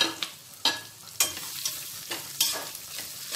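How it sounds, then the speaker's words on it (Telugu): Dried red chilies and fenugreek dal fry in a hot pan, with a soft sizzle under a few sharp scrapes of a spoon stirring against the metal, spaced irregularly and fairly close. "వీటిని కూడా ఫ్రై చేసుకుందామండి"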